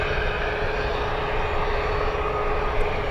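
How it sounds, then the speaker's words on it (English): A British Airways Speedbird airliner flies out of San Francisco toward Heathrow, its engines making a steady, fairly loud, continuous roar with no pauses. "Speedbird flying back to Heathrow. King of the skies."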